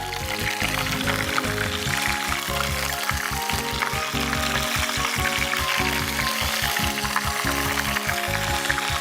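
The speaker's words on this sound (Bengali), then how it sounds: "এবার এটা আমি ভাজবো।" Crushed mushrooms for chili garlic mushroom fry in hot oil in a pan, a loud continuous bubbling sizzle that stays steady and close throughout.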